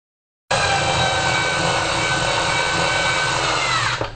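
A power drill bores into a Vlocity Jr295 kayak hull for a HALO SpeedFeed install, a steady, loud, continuous whine lasting a few seconds before winding down at the end, heard alone.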